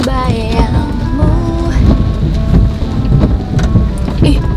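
Heavy rain and wind storm roaring steadily and loud, with a dense patter of drops, a few thudding gusts, and a faint voice briefly audible beneath.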